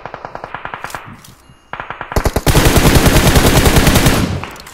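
Automatic weapon fire in the mobile battle royale game PUBG Mobile, loud rapid bursts of shots followed by a brief lull, then a dense sustained stream of gunfire that tapers off at the end.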